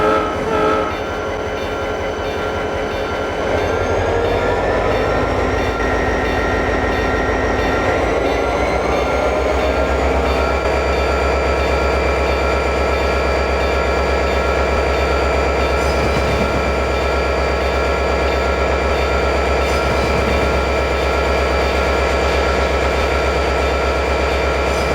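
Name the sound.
Pennsylvania Railroad Broadway Limited diesel train departing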